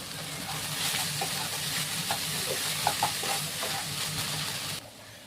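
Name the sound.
leafy greens (shak) frying in oil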